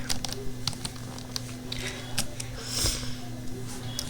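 Typing on a computer keyboard, close and fairly quiet, with scattered irregular key clicks over a steady low electrical hum.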